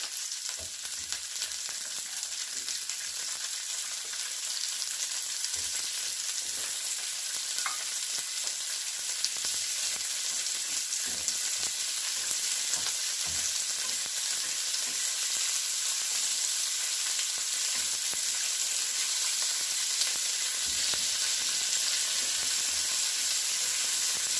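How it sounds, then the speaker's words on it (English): Asparagus frying in a pan over medium heat, a steady close sizzle with faint crackles running throughout, no voices. "You have to turn it down so you don't burn the asparagus."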